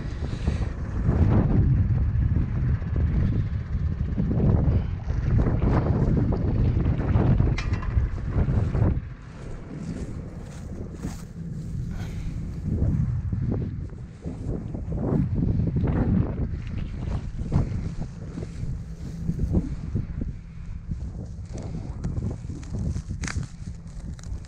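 Strong wind buffets the microphone at a spring barley harvest, a loud, continuous roar with gusting surges that drop off partway through and then build again, with no talking.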